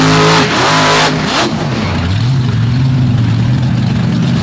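Drag racing car at a dragway revving hard during a wheel stand, loud and close, the engine note dipping then rising into a sustained heavy roar.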